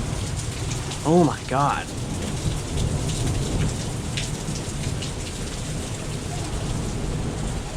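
Continuous rolling thunder rumbles through heavy rain pattering on surfaces during a severe thunderstorm, with a brief startled exclamation near the start.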